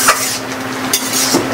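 Taro leaves being stirred in a pan with rohu fish head, a steady soft scraping and sizzle with a few brief clinks of the utensil against the pan, close and unaccompanied by talk.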